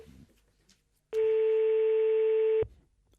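A single telephone tone rings out loud and steady for about a second and a half while a call is placed, with quiet room noise before and after.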